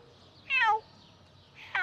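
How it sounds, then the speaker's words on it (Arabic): A cat meows twice on a street in Ronda, Spain, with a clear rising-falling cry followed by a shorter one, close and distinct over quiet background noise. "قطط مياو مياو"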